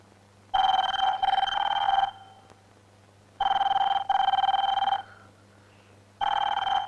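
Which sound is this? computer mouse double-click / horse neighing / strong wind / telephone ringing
telephone ringing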